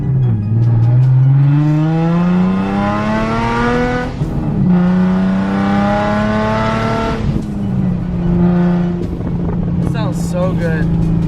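A Nissan Z sports car idles and revs near the listener, its exhaust giving a loud, steady burbling drone that climbs and falls through several rev swells, with people talking briefly near the end.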